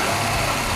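A Mercedes car engine running close up, a dense, steady rumbling drone with no talk over it.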